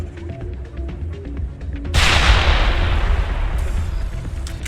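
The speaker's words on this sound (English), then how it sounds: "That was a waste of a grenade." A grenade explodes in the video game Mass Effect, a sudden loud blast that follows a stretch of quieter gunfire and then rolls on into a long, noisy rumbling decay.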